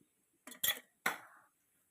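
Two quick metallic knocks of a pan set down on a stovetop, close and clear, with a brief scraping ring after the second.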